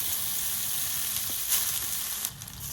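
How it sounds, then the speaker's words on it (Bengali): Fresh jute greens fry in plain oil with a close, steady hiss and crackle that holds throughout, with a couple of soft stirring bumps and no talking. "এবার এই শাকটা আস্তে আস্তে আস্তে আস্তে নেড়ে নেড়ে প্রথমে শাকটা ভেজে নেব।"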